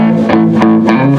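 Electric guitar through a Fender Champion 50XL amp on high-gain distortion, thick sustained chords with rhythmic picked accents, loud and close, sounding alone.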